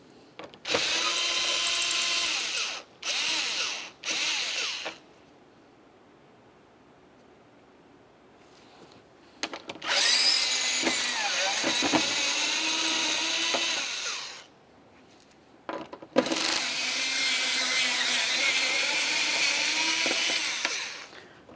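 A power tool whirs in loud sustained bursts while backing out T30 screws from the top plastic cover of a 2004–2010 BMW X3, with quiet gaps between runs and a rising whine in each.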